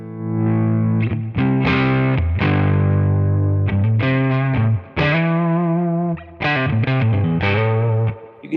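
An electric guitar played through a Tone King preamp pedal with EL34 power amp emulation, producing crunchy overdriven chords and sustained notes in a steady, loud, close phrase with no voices.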